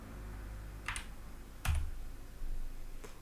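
Mouse clicks on a computer while a Next button is pressed in a setup wizard, three short sharp clicks spaced roughly a second apart, close and fairly crisp against a low room hum, with no voice.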